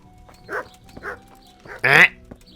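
Dogs barking in the medieval video game Kingdom Come: Deliverance, a few separate woofs spaced apart followed by a louder, harsher bark near the end, over quiet game ambience with a faint voice.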